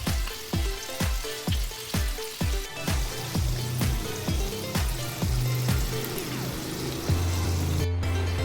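Chicken pieces frying in a pan, with repeated sharp stirring or scraping strikes about twice a second over a steady loud sizzle, then a few longer sizzling bursts as more food hits the hot oil.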